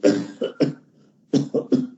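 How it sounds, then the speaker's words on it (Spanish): A young child coughing in two quick clusters of short, harsh coughs separated by a brief silence, close and fairly loud. "pero está tosiendo"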